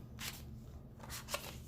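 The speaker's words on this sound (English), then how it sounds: "this deck is really hard to shuffle" A tarot card deck being shuffled by hand, two or three quick soft riffling bursts close by and quiet, with brief pauses between them.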